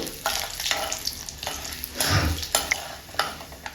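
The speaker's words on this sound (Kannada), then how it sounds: "ಕಡಲೆಬೇಳೆ ಹಾಕ್ತಾ ಇದ್ದೀನಿ ಒಂದು ಸ್ಪೂನು ಉದ್ದಿನಬೇಳೆ ಹಾಕ್ತಾ ಇದ್ದೀನಿ ಇದೆಲ್ಲ ಚೆನ್ನಾಗಿ ಕಲರ್ ಚೇಂಜ್ ಆಗೋ ತನಕ ಹುರಿಬೇಕು" Chana dal and urad dal roast in a pan with oil, a quiet sizzle under repeated scraping and stirring strokes of a spoon, with small metallic clicks, close and fairly soft.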